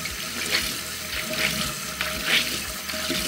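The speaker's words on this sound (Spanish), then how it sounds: "Voy a primero a mojarla con agua tibia." Warm tap water runs steadily into a sink to wet a makeup sponge, a close, continuous rushing splash with no voices.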